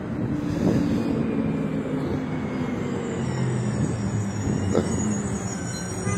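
Street traffic with buses and trucks, including garbage trucks, rumbles past in a steady, loud low drone, with a couple of swelling pass-bys and no speech.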